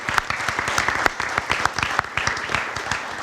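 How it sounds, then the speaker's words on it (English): A crowd gives a round of applause for a high school Dream Team athlete, a pitcher, at a spring sports event, with dense, sharp clapping that stays steady and fairly close throughout. "Let's give Trenton a round of applause."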